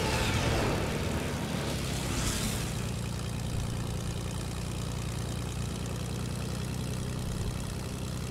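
Airplane engines in the video game Fortnite drone steadily with a low, even hum and propeller-like throb, loud and unbroken with no talking.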